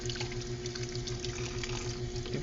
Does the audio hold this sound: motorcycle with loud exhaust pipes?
no